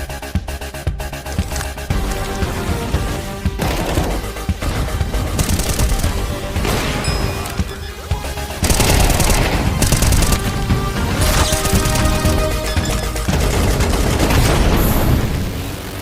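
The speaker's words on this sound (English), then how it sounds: "Counter-Strike is known for its visceral and satisfying gunplay." Gunfire from the Counter-Strike 2 video game comes as dense, loud bursts of shots and booms layered over a driving musical score, growing heavier partway through.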